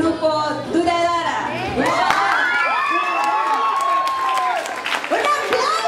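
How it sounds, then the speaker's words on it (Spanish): Crowd at a cosplay contest cheering, whooping and clapping for the winners, with loud high shouts and screams from children and others over a continuous layer of applause. "¡Un aplauso para Duradara, que son los ganadores!"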